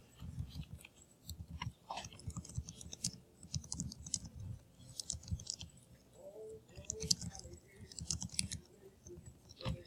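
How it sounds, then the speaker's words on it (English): Computer keyboard keys click in quick, irregular bursts, faint and close, with brief pauses between runs of typing. "I'm even going to type that right here."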